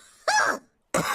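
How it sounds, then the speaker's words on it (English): A cartoon character from Peppa Pig coughs twice, two loud harsh bursts separated by a short silence, with no talk in between. "All the grown-ups have caught Pedro's cough."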